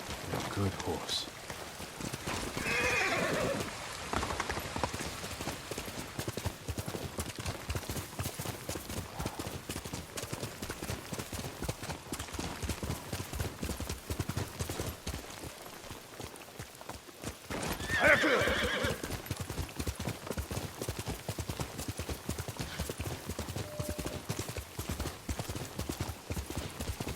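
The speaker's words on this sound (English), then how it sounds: "Good horse." A horse in Ghost of Tsushima trots with steady clip-clopping hooves under a soft rain-like wash, while two clear neighs cut through, one early and one later.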